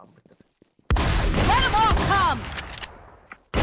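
A burst of rapid gunfire erupts in an online shooter game, loud and dense for about a second before trailing off, with a voice speaking briefly over the shots and quiet clicks before and after.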